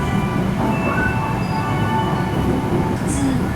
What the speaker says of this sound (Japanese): 奈良県で一番早起きな始発電車を発車